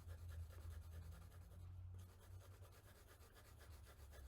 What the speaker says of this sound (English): shade it in slightly lighter, so I'm hardly pressing